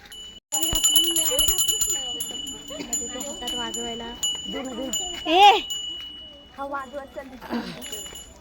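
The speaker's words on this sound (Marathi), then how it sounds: "तुझ्या हातात आहे घंटी" A hand bell rings with a bright, shimmering tone during a Gauri festival procession toward a temple, then people talk over it as the ringing fades.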